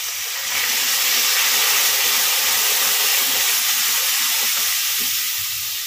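Spice paste of ground coriander and red chilli powder loosened with a little water sizzles and spits steadily in a hot wok, a bright, loud, continuous hiss close up with no voices.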